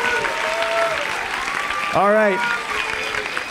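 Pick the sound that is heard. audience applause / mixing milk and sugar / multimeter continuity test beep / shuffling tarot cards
audience applause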